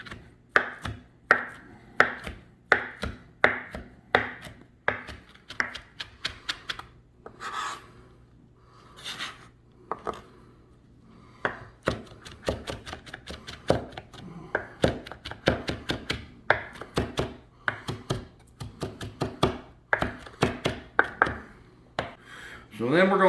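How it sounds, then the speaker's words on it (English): Fresh rosemary being chopped finely with a knife on a board, a long run of rapid, crisp close-up knife taps in bursts with a brief pause midway, and no talking. "we're going to chop this rosemary up fine"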